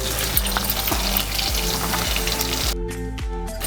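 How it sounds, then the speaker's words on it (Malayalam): Garlic and onion fry in oil with a loud, close sizzle, broken by repeated scraping stirs, before the sizzle dies down near the end. "വെളുത്തുള്ളി ഉള്ളി ഇത് രണ്ടും കൂടെ നന്നായിട്ട് നമുക്കൊന്ന് മൂപ്പിച്ചെടുക്കാം"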